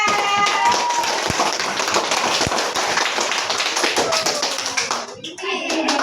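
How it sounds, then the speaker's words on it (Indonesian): A classroom of students claps their hands together in a sustained, dense burst of rapid claps that fills the room, tapering off near the end. "tepuk tangan Nura Pija"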